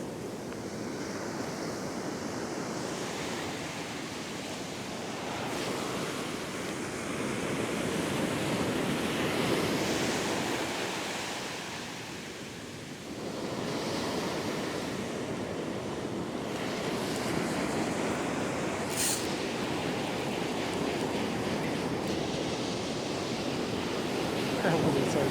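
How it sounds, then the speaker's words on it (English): Powerful ocean waves crash and wash continuously onto a beach where someone is surf fishing, a steady loud roar that swells and eases, with wind buffeting the microphone. "There's a lot of power in these waves."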